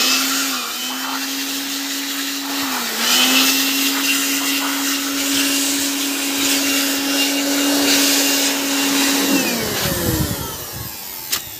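Air blower cleaning the dual-clutch automatic transmission of a Ford EcoSport, a loud, steady high whine that holds without a break, then dips and cuts off near the end.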